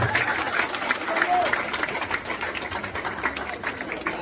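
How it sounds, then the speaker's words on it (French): Audience applauding at a gala evening for Kémi Séba at the Hôtel Roi Christophe, a steady wash of clapping with crowd murmur and a voice talking over it throughout. "je vous demande d'applaudir chaudement Kémy Séba"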